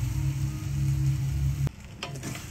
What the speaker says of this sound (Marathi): अजून आपल्याला मिनिटभर चांगलं परतून घ्यावं लागेल.